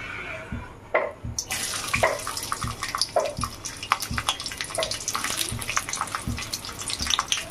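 Garlic hitting hot oil in a wok while cooking chicken skin, a near sizzling hiss broken by repeated clanks and scrapes of a utensil, with no talking.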